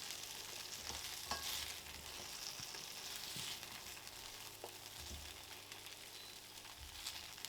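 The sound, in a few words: chicken frying in a wok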